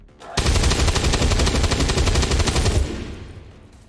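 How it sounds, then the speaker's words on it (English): Sustained full-auto gunfire in the video game XCOM 2, a loud, dense burst of rapid shots lasting about two and a half seconds before trailing off into a fading echo. "Full auto fire."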